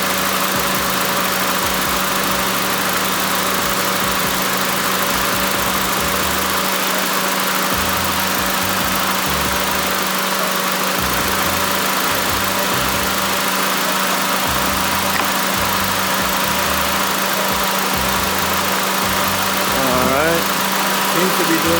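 A repaired car engine idles steadily on its own power, a constant close hum with a faint rhythmic knock beneath a broad hiss, running alone without pause.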